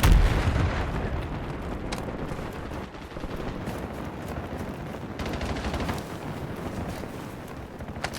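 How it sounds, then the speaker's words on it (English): Semtex grenade blast in Call of Duty: Resurgence, opening with a loud explosive burst and then giving way to continuous rumbling gunfire and battle noise. "Semtex out!"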